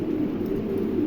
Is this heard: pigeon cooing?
yes